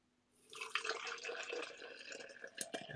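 Water poured into a cafetiere of Bourbon Espresso ground coffee, a steady close trickle and splash that starts after a brief quiet moment and runs on with small fluctuations, no talking.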